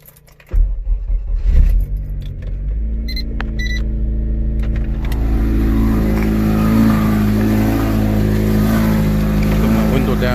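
A Honda K20 engine cranks, catches and fires up, then settles into a loud steady idle with some revving, heard close after a brief quiet start, with a window motor whirring and a person talking briefly.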